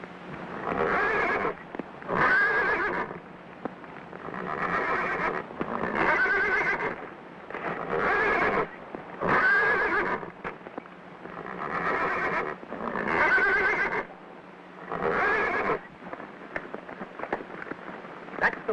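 A horse, taken as a sacred god horse heading up a temple trail in a 1935 adventure serial, neighs and whinnies in repeated loud bursts through the clip, with clip-clopping hooves and faint background between calls.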